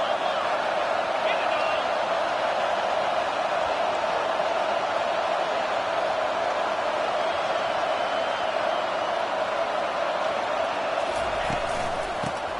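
A stadium crowd at a video game football match keeps up a steady, dense roar that holds at an even level for the whole stretch, with a brief swell of extra activity near the end.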